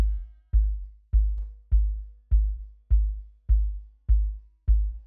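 A kick drum run through an expander thumps nine times in a steady, even pulse, each hit punchy and low with a tail that is cut short, leaving brief gaps of quiet between strikes.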